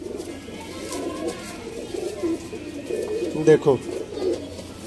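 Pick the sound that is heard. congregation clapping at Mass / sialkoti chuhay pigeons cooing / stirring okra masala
sialkoti chuhay pigeons cooing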